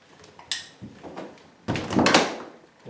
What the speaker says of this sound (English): now we'll try the door, make sure it closes okay